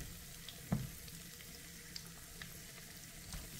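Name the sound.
floured fish frying in oil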